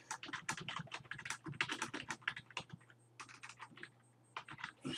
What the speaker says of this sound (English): start typing a note.